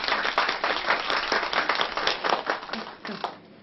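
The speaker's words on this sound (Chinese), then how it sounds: "大家鼓掌" A group of office colleagues claps for a newly introduced coworker: a dense, steady burst of applause filling the room for several seconds, with voices mixed in.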